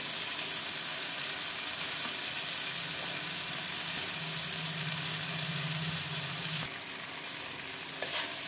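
Spiced mutton liver sautéed dhaba style in a pan gives a steady, loud sizzle and hiss that holds throughout, with a sharper burst of frying near the end.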